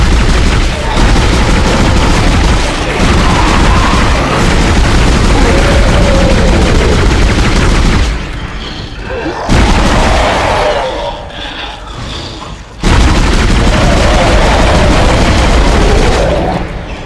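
Heavy weapon firing in Dead Space: sustained, loud bursts of rapid gunfire and booming blasts in long runs, broken by brief pauses, with no talking over it.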